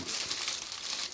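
A plastic bag around a T626SE metal-bodied dash camera crinkles continuously for about a second, close and crisp with no speech.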